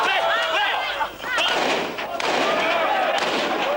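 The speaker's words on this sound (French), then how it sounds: "Soudain, à l'extérieur, des coups de feu." Gunshots crack outside a stadium during a tense event in Congo, sharp reports bursting through a loud, agitated crowd roar with voices shouting throughout.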